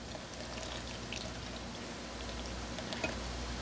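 Milk pouring into a ragu sauce in a home kitchen, a soft continuous liquid stream heard up close with no talk.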